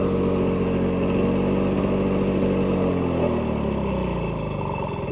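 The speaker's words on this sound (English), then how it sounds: "It's always fun to get an old engine running" An old Lawnboy 680543 lawnmower engine runs steadily and loud with no voices, its idle slightly slowing and shifting in pitch toward the end as the carburetor mixture sits a little off.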